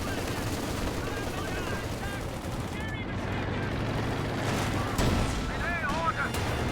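Rapid gunfire and heavier artillery blasts crack through a strategy video game battle, shots overlapping in dense bursts with a loud impact near the end, while a commentator talks over the action.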